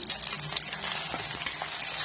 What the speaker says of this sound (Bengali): এই কড়াইতে পেঁয়াজ আর কাঁচা লঙ্কা দিয়ে দিলাম